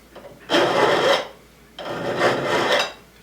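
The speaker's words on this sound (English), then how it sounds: "Again, pull the file towards you." Two long, slow rasping strokes of a metal file drawn across the point of a throwing knife at a workbench, close and clear, separated by a short pause, with no talking.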